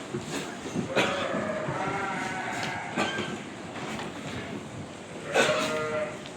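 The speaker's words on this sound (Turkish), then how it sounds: "Koyunlarımızın da seslerini duyuyorsunuz. Koyunlar meliyor." Sheep bleat a few times at intervals, wavering cries rising over a steady background of farmyard noise.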